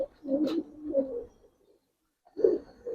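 Old-breed Giribaz pigeons coo in a loft, with two soft rolling coos close together, a short pause, then another coo starting, close and fairly loud with no talk over them.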